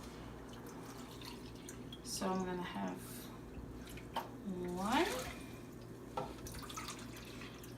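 Water from a tap runs and drips into a pot of quinoa in a home kitchen, two short pours with trickling between them, heard beneath a person talking.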